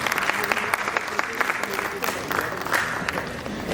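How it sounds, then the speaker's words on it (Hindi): A theatre audience applauds at a stage event, with a dense, continuous burst of clapping from a crowd that swells and fades slightly, while a voice speaks faintly underneath. "तालियां बजा दीजिए एक बार"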